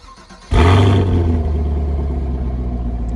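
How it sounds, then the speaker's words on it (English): A 2021 Chevrolet Camaro SS V8 with dual mode exhaust in tour mode, warm from driving, fires up after a moment of quiet with a sudden loud roar, then settles into a deep, steady rumbling idle. "today I'm gonna be giving you guys a sound test for my 2021 Camaro SS"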